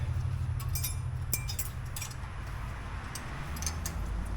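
Small metal brake pad hardware clips from a 2015 Honda CR-V front brake job clink and tick lightly in quick, scattered bursts over a low background hum.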